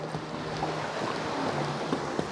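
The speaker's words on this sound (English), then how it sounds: "I push out the boat out to reach enough depth to lower the engine leg" A boat is pushed out through shallow water by hand, giving a steady wash of water and wind with low rumbling underneath and no voices.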